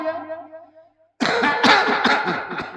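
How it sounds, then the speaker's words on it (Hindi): A patient at a doctor's checkup coughs a few times in quick, harsh bursts up close, after a brief spoken exchange and a moment of silence. "थोड़ा सा खांसिए"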